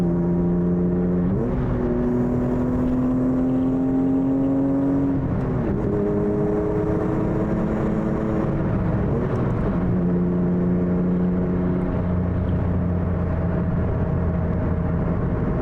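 A BMW E36 track car engine revs hard and climbs through gears at about 80 through turns, the pitch rising and dropping with each shift, loud and continuous with no talking.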